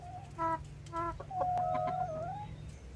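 Hens in a henhouse give several short, close clucks and then a longer drawn-out squawking call over a faint steady hum, with no voices.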